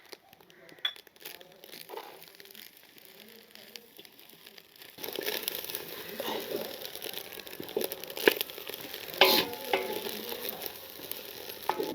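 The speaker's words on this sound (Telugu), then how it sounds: "చేప ముక్కలు ఇది ఇలా ఏగుతుండగానే" Fish pieces frying in a pan with ground roasted coriander and cumin, a steady sizzle and crackle that grows louder partway through, with occasional stirring scrapes and brief soft talk.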